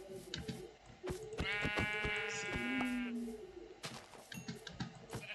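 Sheep bleating in the video game Minecraft, a single wavering, nasal bleat of about two seconds amid clicks and game noises, with a person talking around it.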